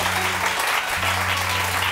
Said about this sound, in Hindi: मेहमानों को तालियां तो बजाइए